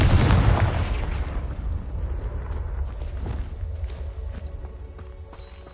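A fiery Confringo spell explosion in Hogwarts Legacy bursts loudly at the start, then rolls into a sustained, dense rumble of crackling debris and fire that slowly fades over several seconds.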